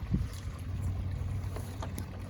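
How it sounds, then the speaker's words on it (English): Wind gusting outdoors and buffeting the microphone, a steady low rumble with brief louder puffs throughout, no voices. "Sorry, a little windy outside."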